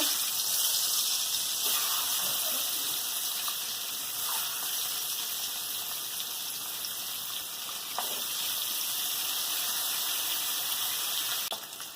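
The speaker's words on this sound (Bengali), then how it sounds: "এবার এই মাখিয়ে রাখা ডিমগুলো ভেজে নেব।" Marinated eggs frying in hot oil in a wok, a continuous airy hiss with faint popping, fairly soft and unchanging throughout.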